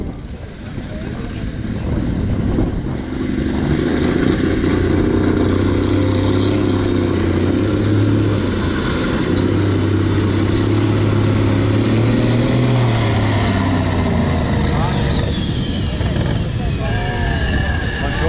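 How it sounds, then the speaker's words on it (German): Six-cylinder turbocharged ZT 303 tractor engine, stock 180 hp tuned far higher, roaring at a tractor pulling event in Jesendorf, a loud sustained drone with shifting pitch and crowd noise beneath. "aus dem sechszylinder Motor, standardmäßig 180 PS, können wir locker mit 500, 600 PS rechnen"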